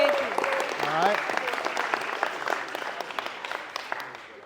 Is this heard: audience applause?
yes